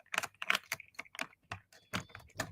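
A seven-piece set of jewellery boxes clicking and clacking against each other in a series of sharp, close, irregular clacks over a couple of seconds, with no talking.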